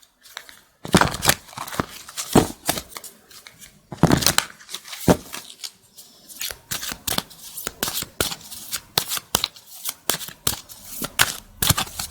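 Tarot cards from a second deck shuffled by hand in close, quick bursts of riffling and slapping, pausing briefly and then resuming in rapid, uneven rhythm for about twelve seconds.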